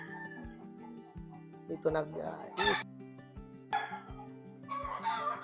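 Gamefowl chickens in scratch boxes on a farm cluck and squawk close by, with a voice speaking over them and a steady low hum in the background.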